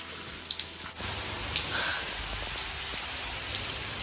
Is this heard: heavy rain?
yes